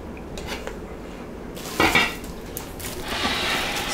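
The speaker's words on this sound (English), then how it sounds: "Stick this in the slow cooker." Food for slow-cooked beef short ribs is scraped and dropped into a slow cooker, with clinking of utensils against the pot and a sharper clatter midway, close and moderately loud, with no talking.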